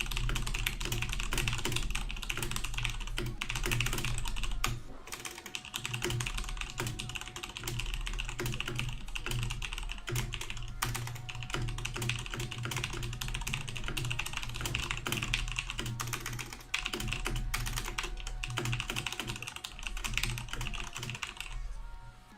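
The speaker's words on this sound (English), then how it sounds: "I can only type fast on things that I'm thinking of instead of reading." Fast typing on a computer keyboard, a dense, continuous run of close key clicks with brief pauses, heard alone without talk.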